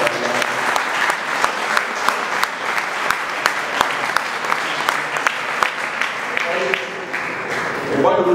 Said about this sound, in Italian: un applauso ci sia